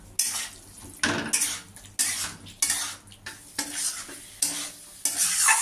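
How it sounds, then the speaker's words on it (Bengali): A spatula scrapes and stirs spice paste with radhuni paste frying in a pan for katla fish curry, about six rhythmic strokes over a steady sizzle, close up with no talking. "রাঁধুনি বাটা দিয়ে আমি আরও কিছুক্ষণ কষবো"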